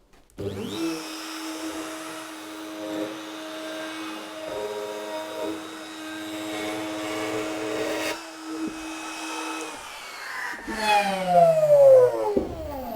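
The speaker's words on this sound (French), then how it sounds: "je vais avancer de la même manière, vraiment en tenant ma défonceuse de manière très souple avec 2 doigts" A handheld wood router, held lightly with two fingers while cutting, gives a steady, loud, high whine for about ten seconds. Then the pitch sweeps down as it winds down.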